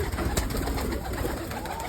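A biscuit-coloured female Giribaz pigeon coos close by, with a steady murmur of cooing running through a noisy, busy background.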